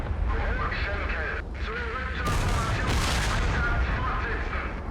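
A Pz.Kpfw.IV Ausf. G cannon fires in a World War II tank video game set at Kursk in 1943, with two heavy booming blasts over a constant engine rumble while a voice calls out in German.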